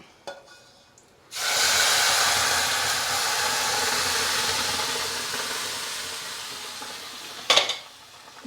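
After a quiet start, hot oil bursts into a loud, steady sizzle as dried lentil-sesame-chilli fritters drop into the pan for tempering, fading slightly before a brief clink near the end.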